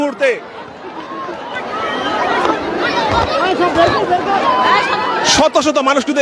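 Large crowd of hundreds gathered around a landed US-Bangla helicopter, a dense, steady babble of many voices chattering at close range, with a brief louder burst near the end.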